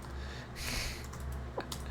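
Keys on a computer keyboard being typed at a desk during a Linux terminal session, a short run of soft clicks rising and falling over steady background hum, with no talking.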